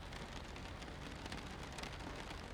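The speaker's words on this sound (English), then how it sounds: "the raindrops are super loud, and they drown out the noise of the prop" Loud raindrops drum steadily on the aircraft in a flight simulator game with an Aerobask Pipistrel Panthera, a dense, even hiss of rain that masks the propeller and has no talk over it.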